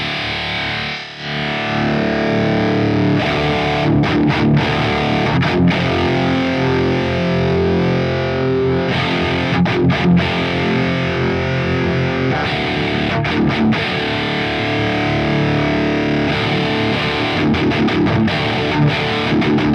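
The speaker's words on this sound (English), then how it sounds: "I'm going to throw a normal distortion through the NATAS and then get it into the Marshall where that's going to introduce more distortion characteristics." An electric guitar plays heavily distorted riffs through a Fortin NATAS pedal into a Marshall JCM-2000 amplifier, a loud, thick, continuous crunch with chugging rhythm and ringing chords throughout.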